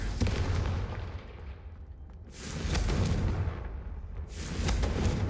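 Confringo fire spell blasting in Hogwarts Legacy, two loud booming bursts a couple of seconds apart with crackling decay, no speech over them.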